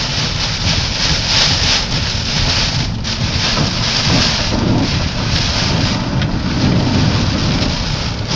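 Heavy rain pours steadily during a thunderstorm, a dense loud wash with low rumbling and gusty wind buffeting the microphone throughout, no voices.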